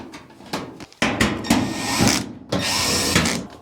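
A power drill whirs in short bursts while driving screws into the cover of a Kenmore 500 Series gas dryer, with clicks and handling noises between the runs.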